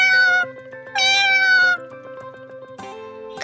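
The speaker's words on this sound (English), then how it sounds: "Cat." A domestic cat meows in two loud, drawn-out calls with a short pause between them, followed by a third shorter, lower meow near the end, all heard alone without talk.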